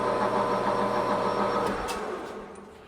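A lathe spins a 4-jaw D1-4 camlock chuck at about 600 RPM, still shaking slightly out of balance, giving a steady mechanical whirring hum that gradually fades toward the end.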